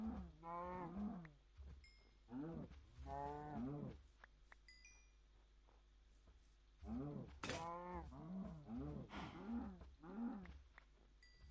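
Cows in the Minecraft video game give several drawn-out, wavering moos in two clusters separated by a quiet gap. Faint clicks and game noises sit underneath.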